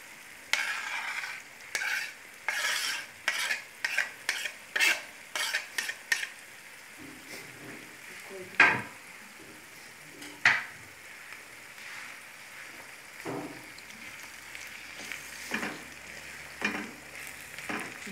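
Tomatoes and fried onions stirred in a pan for an egg-noodle dish, with soft sizzling under repeated sharp scrapes and clinks of a utensil against the pan, close and intermittent, no talking.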